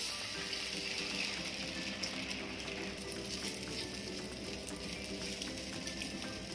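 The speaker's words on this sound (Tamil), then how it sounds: "இதுல 1 கப் அளவுக்கு பால் சேர்த்துக்கலாம்." Sautéed ridge gourd cooking in a pan as milk goes in for payasam, giving a soft, continuous sizzle and bubbling with faint stirring, quiet and steady, with no speech.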